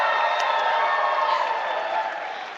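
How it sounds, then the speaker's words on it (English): A university audience gives a big group cheer for a college football matchup, a loud sustained roar of whooping and shouting voices that slowly fades near the end. "can I just get a big group cheer for my CU Buffs taking on the CSU Rams this weekend?"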